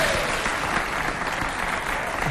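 Studio audience at a Chadian television variety show applauding, a dense, steady wash of many hands clapping that holds loud and even from start to finish.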